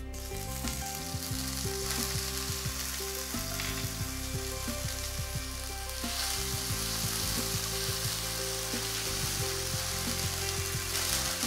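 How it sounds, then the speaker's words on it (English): Garlic ginger paste frying in oil left from cooking chicken, a dense, steady sizzle close by with occasional stirring scrapes, no talk. "So now in the same oil, I first add in the garlic ginger paste."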